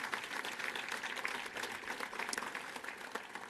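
Convention audience giving a sustained round of applause, dense crackling claps spread evenly across the whole stretch without pause.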